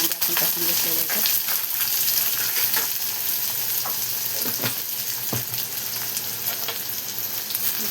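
Two chopped onions sauté in hot oil with garlic and cumin, a steady loud sizzle up close with irregular spatula scrapes and knocks against the pan.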